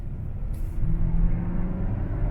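A 2023 Kia K5 GT car accelerating after braking, a steady low engine rumble that swells slightly and holds, heard from inside the cabin with no talk.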